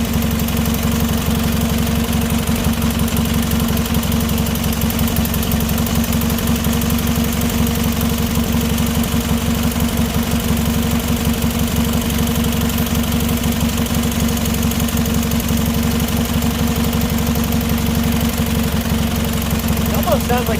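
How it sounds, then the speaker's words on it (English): A Briggs & Stratton opposed twin small engine running steadily with its air cleaner assembly fitted, giving a loud, continuous mechanical drone with a fast, even ticking rhythm that stays unbroken throughout. "These opposed twins run a lot better with the air cleaner assembly all on them."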